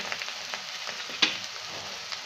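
Mixed vegetables with garam masala and turmeric sizzle steadily in a hot pan, with a few soft stirring scrapes and one sharper clink in the middle, close and continuous, with no voices.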